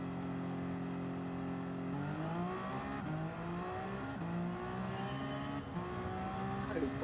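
Toyota GR010 hybrid hypercar at Le Mans in Gran Turismo 7, engine droning steadily and then stepping up through gear changes with rising pitch sweeps, sustained and fairly even in level.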